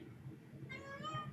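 A house cat meows for food, a single drawn-out meow rising faintly out of a quiet room near the end, with low background murmur.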